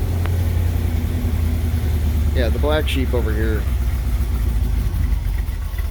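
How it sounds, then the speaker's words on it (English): A 1978 Chevrolet Camaro engine idles steadily with a low, constant rumble throughout, while someone talks briefly over it partway through. "She's idling down on her own."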